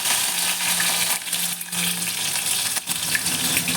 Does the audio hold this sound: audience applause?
no